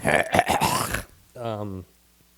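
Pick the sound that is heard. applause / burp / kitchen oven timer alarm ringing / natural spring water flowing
burp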